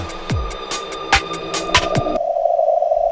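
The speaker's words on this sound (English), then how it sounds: "UFO sounds I was exploring throughout." Eerie, echoing UFO-like synth tones with pings and falling sweeps, then a steady sustained warble. No voices.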